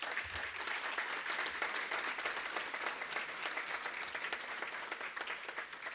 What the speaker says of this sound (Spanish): Pido un fuerte aplauso para recibir a la maestra María del Carmen Navarro Telles